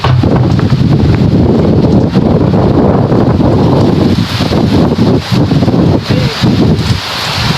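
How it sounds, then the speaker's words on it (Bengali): A heavy wind and rain storm in Jessore roars continuously with loud buffeting gusts against the microphone and a dense hiss of driving rain, steady throughout with no voices. "আমি এখানে আর দাঁড়াতে পারছি না, এত পরিমাণ বাতাস আর বৃষ্টির পানি আসছে।"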